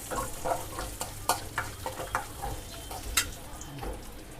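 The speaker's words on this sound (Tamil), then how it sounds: "நெய்யில் போட்டு லேசாக வறுத்துக்குவோம்" Potatoes lightly roasting in ghee for potato kheer, giving a soft steady sizzle broken by repeated scraping stir strokes, close and moderately quiet, with no talking.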